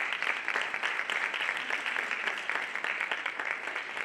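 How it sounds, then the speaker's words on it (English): Audience at an early childhood advisory committee report release applauds the committee members, an even, dense wash of clapping held steady from start to finish. "let's give them a round of applause"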